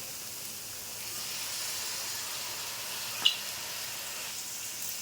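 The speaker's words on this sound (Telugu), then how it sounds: "ఇప్పుడు నిమ్మకాయ రసం వేస్తున్నానండి." Lemon juice poured into sizzling dal khichdi made with chana dal, a steady soft hiss of frying with one small crackling pop near the end, no talking.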